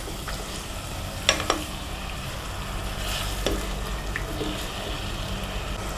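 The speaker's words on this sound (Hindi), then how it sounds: "इसमें डाल देंगे हम ये चिकन। इसको 1-2 मिनट फ्राई करेंगे।" Constant sizzling of chicken frying in a pan, with a few sharp clinks and scrapes of a utensil stirring.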